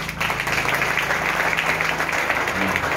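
Wedding guests clap together in a moderate, steady patter lasting about three seconds, fairly close, with murmuring voices mixed in.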